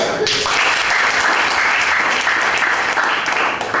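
Clapping fills a sales training session after a participant's presentation, a loud, dense and continuous round of applause from the room lasting several seconds.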